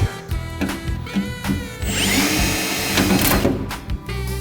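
A power drill whirs in short bursts, then runs steadily with a high whine as it bites into material, close and loud.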